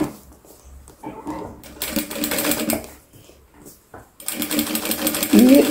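Sewing machine stitching log cabin patchwork, its needle whirring in bursts that start, pause and restart, close and fairly loud, with someone speaking Portuguese between the runs.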